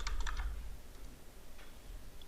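A few quick keystrokes on a Mac computer keyboard land in a short burst at the start, followed by faint, sparse taps in a quiet room.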